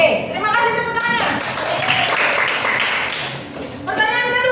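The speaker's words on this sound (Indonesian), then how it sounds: "Oke, terima kasih tepuk tangannya." Classroom applause from a group of students, a dense burst of clapping lasting a few seconds, with a voice heard before and after it.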